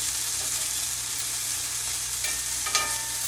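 Chicken wings searing in a cast iron pan, a steady hiss of sizzling fat with a couple of sharp pops and scrapes near the end, close up and without talk.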